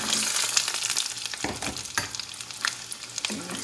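Chunks of taro sizzle loudly as they are stirred through hot caramelized sugar in a pan, a steady crackling fry broken by a few clattering scrapes of the spoon, with no talking.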